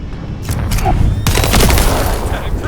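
Fireworks going off in the video game The First Descendant, two quick clusters of sharp crackling bursts that trail into popping and rumbling echoes.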